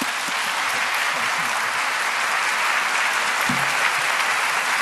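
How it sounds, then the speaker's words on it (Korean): A church congregation at a New Year's dawn prayer service claps steadily to welcome the senior pastor, dense continuous applause from a large room throughout, with a brief voice or two faintly under it. "왕의 식탁에 참여하는 은혜라는 제목으로 우리 담임 목사님 말씀 드리는데 우리 박수로 우리 환영하겠습니다"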